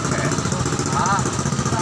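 A motorcycle engine runs steadily while wading through floodwater on a flooded town road in Hagonoy, giving a continuous close, buzzing drone for a couple of seconds.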